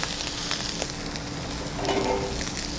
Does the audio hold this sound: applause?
no